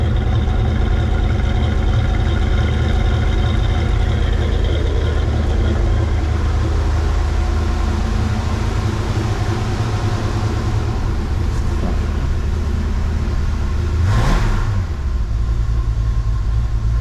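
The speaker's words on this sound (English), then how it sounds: "What I love on this one's the exhaust. It's got a great exhaust system coming out the back." A 1966 Ford Mustang Fastback idles after a cold start, its exhaust giving a loud, steady low rumble throughout, with a brief swell in pitch near the end.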